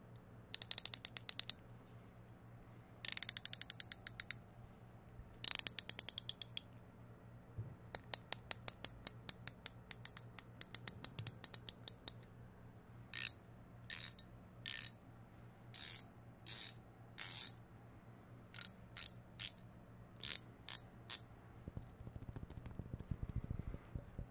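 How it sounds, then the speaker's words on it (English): Bursts of rapid mechanical clicking from a ratchet wrench, some in quick rattling runs and others as short separate clicks, close by over a faint steady hum. "I do have a ton of different ratchets, but it's useful if there's a higher torque you need."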